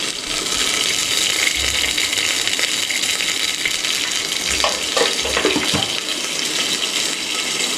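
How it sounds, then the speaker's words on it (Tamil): Mustard seeds sizzle and pop in hot oil for mutton curry, a steady loud frying hiss with a few sharper crackles and small bumps from the pan. "லைட்டாக எண்ணெய் சூடானோடனே கடுகு எடுத்து போட்டுடுங்க"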